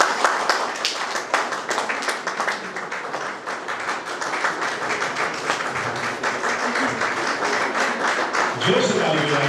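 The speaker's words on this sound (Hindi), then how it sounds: "ताली बजाते रहें।" Congregation at a church Christmas celebration of the Utkal Evangelical Association in Raipur clapping in a steady, rhythmic beat throughout, with voices over the applause.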